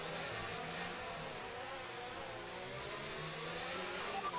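A Formula 1 race car engine in the F1 2019 video game, on the Monaco circuit, drones with a steady, continuous mid-pitched whine that barely shifts in level, with no speech over it.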